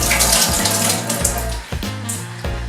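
Hot water gushes steadily from a tap, close and loud, with a broad splashing hiss and small gurgling changes in the flow.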